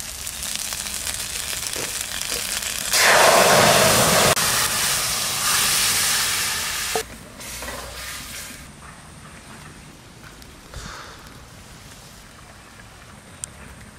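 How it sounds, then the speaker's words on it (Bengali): Raw cumin paste is added to hot oil, causing a sudden loud hissing sizzle that swells for a few seconds, then settles into a softer, fading fry, with a couple of clinks. "কাঁচা জিরা বাটাটুক আমি তেলের উপর দিয়ে দেবো"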